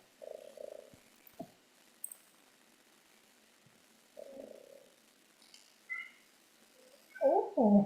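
A cat meows in short, separate calls, a few faint ones followed by louder, closer cries near the end, with light background noise in between.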